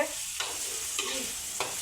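Spices sizzle steadily in hot oil as they are tempered, close and continuous, while a spoon stirs them with three short scraping strokes spaced about half a second apart; no one speaks.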